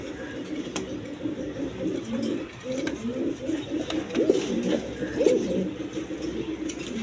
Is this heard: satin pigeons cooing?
yes